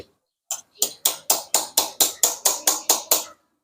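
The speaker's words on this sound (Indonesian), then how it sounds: "kalian tinggal ketok-ketok aja menggunakan obeng yang agak gede" A large screwdriver taps on a part of an electric fan, giving a steady run of about eleven sharp, evenly spaced knocks. The knocks are close and loud, with no talking.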